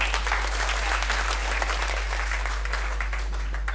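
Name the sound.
loud audience applause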